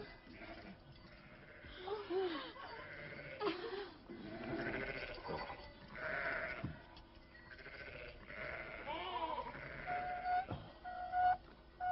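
Sheep and goats bleat repeatedly around a desert well, several animals calling near and far in overlapping cries, mixed with people talking and a faint whistle.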